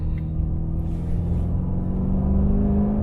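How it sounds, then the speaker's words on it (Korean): A Maserati Levante GTS sits revving, its exhaust note a deep, loud, steady rumble that builds slightly toward the end, with no talk over it. "와 이거 진짜 배기음 끝장이다"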